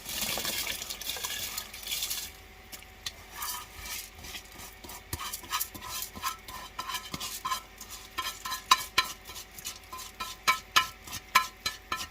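Soaked, drained rice poured into a pot of boiling water for chicken mandi, with soft splashing, stirring scrapes and light metallic clinks that grow more frequent and pronounced toward the end, with no talking.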